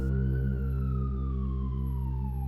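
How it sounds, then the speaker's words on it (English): A wailing siren sweeps slowly downward in pitch, loud and steady, alone with a constant low engine-like hum beneath it. "The sirens of the Hospitalier ambulance taking the victim, Michael, off to St. Henry's for treatment."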